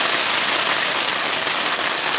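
Rain falls at night in the Salalah mountains, a loud, even, unbroken hiss of drops across the whole stretch.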